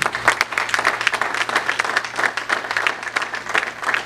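A church congregation applauds and cheers at a pastor's ordination service, dense steady clapping with crowd voices filling the room throughout, fairly loud and close.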